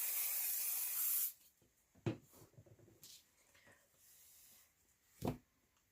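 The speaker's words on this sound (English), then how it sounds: "I'm going to take some hairspray and spray it just so it doesn't fall out." A can of hairspray hisses in one steady, close spray burst for about a second, followed by quiet handling noises and soft taps.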